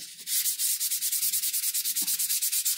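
A fossil rock from Lake Michigan is hand wet-sanded with 1000 grit sandpaper, giving close, steady, rhythmic back-and-forth rasping strokes, about seven per second.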